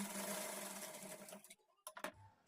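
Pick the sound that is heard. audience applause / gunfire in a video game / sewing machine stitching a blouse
sewing machine stitching a blouse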